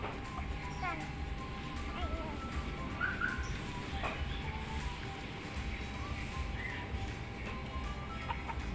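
A rooster clucks in short bursts against constant outdoor noise, with its calls fairly faint and partly masked by the background.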